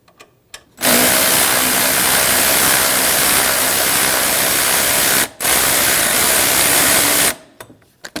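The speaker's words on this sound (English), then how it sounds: "Using a 14mm socket, we're going to remove the 2 bolts from the engine mount." Power tool spinning off engine mount bolts with a 14mm socket on a 2003-2008 Honda Pilot: two long, loud continuous whirring bursts split by a brief pause, with quiet clicks at the start and end.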